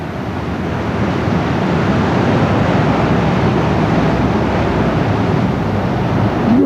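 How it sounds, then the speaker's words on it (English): High ocean waves break continuously on a rocky Hawaii shore, a loud, steady roar of surf with heavy wind rumble close to the microphone and no talk. "The waves are very high here."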